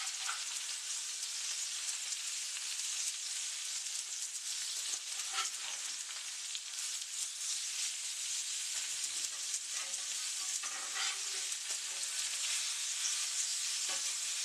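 Blackened salmon fries in a hot pan with a steady, dense sizzle that crackles and pops throughout, heard up close with no talking.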